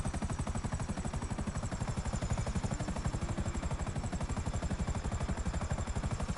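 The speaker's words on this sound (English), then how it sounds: "Call for my multi-billion-dollar aircraft." A Raiju jet aircraft in GTA Online drones with a steady, loud, pulsing rotor-like thrum and a high whine held throughout, with no talk over it.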